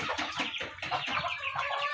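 Several chickens cluck continuously in a backyard coop, a close, busy chorus of short overlapping clucks with no talking.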